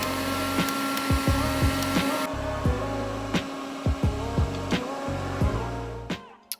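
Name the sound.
Red by Kiss hooded hair dryer running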